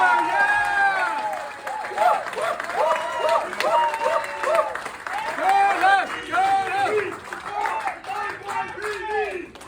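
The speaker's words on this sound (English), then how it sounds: "Let's give them a great round of applause." Crowd applause at a political rally in New York City, with loud, sustained clapping and cheering throughout and several voices shouting and calling out over it.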